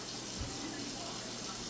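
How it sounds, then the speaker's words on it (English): Tap water pouring steadily into a container to fill it to a line while making macaroni and cheese, a continuous soft gushing hiss. "Okay, we added water."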